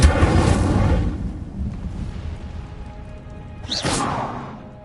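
Incendio fire spell cast in a video game: a loud whooshing, rumbling burst at the start that fades out, then a second sharp whoosh and flare near the end, with no talking.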